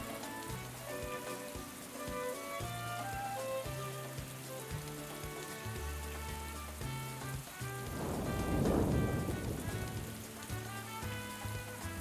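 Rain pours with a distant roll of thunder in the video game Atelier Ryza 2, a steady patter under game music, with a louder rumbling burst near the end.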